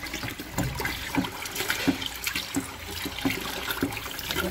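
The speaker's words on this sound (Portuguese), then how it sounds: "Então vamos misturar a soda já dissolvida ao óleo." Dissolved caustic soda is poured into six litres of used cooking oil and stirred for homemade soap, a steady close sloshing and trickling of liquid with soft rhythmic splashes throughout.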